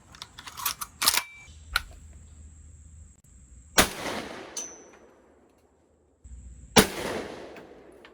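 A 20 gauge Browning A5 shotgun firing light AA shells produces three loud, sharp reports spaced a few seconds apart outdoors, each with a fading tail, among fainter clicks and handling noises.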